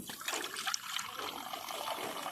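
Water pours into a cup to mix a liquid medicine for racing pigeons, making a short, soft, continuous trickling and splashing close by, with no one speaking.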